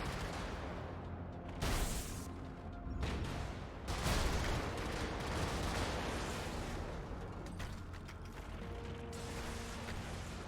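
Gunfire in the mech combat game Brigador, with dense mechanical rattling bursts and clanking weapon noise filling the mix continuously, and louder broadband blasts around the two- and four-second marks.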